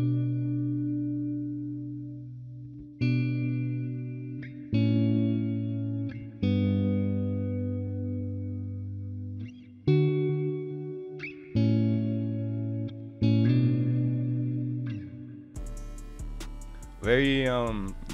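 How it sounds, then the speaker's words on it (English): Clean electric guitar part made in FL Studio for a metal beat, playing a sequence of sustained, ringing chords in a slow, steady rhythm, each chord cut off before the next. Near the end it gives way briefly to a denser, brighter sound. "the very first thing I started off with was this clean guitar right here. It sounds like this."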